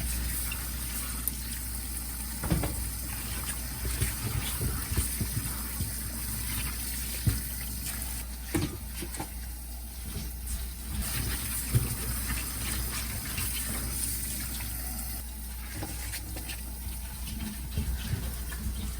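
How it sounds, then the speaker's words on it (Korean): Cucumbers scrubbed with a soft sponge get a final rinse under running tap water for pickling, a steady close gush broken by irregular splashes and clunks as they are handled, with no talk. "좀 전에 저 부드러운 수세미로 닦은 오이들을 이제 물로만 가볍게 샤워를 한 번 더 씻어주려고 합니다."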